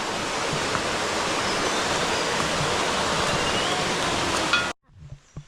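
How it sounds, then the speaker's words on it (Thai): Tat Mok waterfall in Tat Mok National Park pours off a cliff as a loud, steady, dense roar of falling water that fills the scene, then cuts off abruptly near the end, leaving faint sounds. "นี่คือน้ำตกตกมาจากหน้าผานะครับ"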